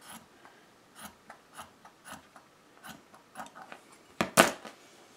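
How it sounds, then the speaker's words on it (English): Scissors snipping through chenille sock fabric in a series of short, crisp cuts at an uneven rhythm, ending in a louder, sharper snip. "I'm going to go ahead and cut all the way up to where this heel bend starts."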